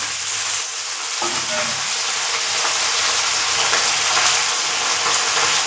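Cauliflower florets sizzle and crackle in hot oil in a pan with potatoes already fried with cumin seeds, a steady, close, broadband hiss with faint stirring throughout.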